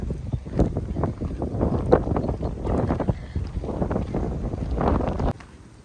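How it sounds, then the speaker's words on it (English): Gusty wind buffets the microphone in uneven rumbling bursts, loud and close, cutting off abruptly near the end. "wow, it's windy."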